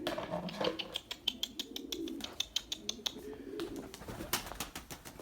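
Pigeons coo repeatedly at close range, with soft throaty calls and fluttery chirps recurring through the whole stretch and no talking.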